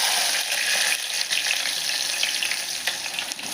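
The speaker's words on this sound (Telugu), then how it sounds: "నేను ఉల్లిగడ్డ ముక్కలు వేస్తున్నాను." Onion pieces fry in a pan with a constant bright, close sizzle and faint stirring taps running through it.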